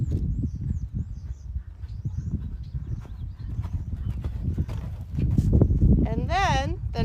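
Horse hooves cantering with a lengthened stride during a pentathlon warm-up, a steady rhythmic run of clip-clop beats, with a voice talking over them and a brief whinny-like call near the end.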